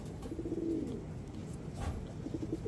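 A tippler pigeon held by the neck gives soft, low cooing notes, one longer coo near the start and another toward the end, close and fairly quiet over faint room noise.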